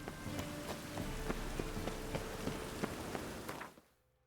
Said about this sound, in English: Hasn't stopped raining for 1 second.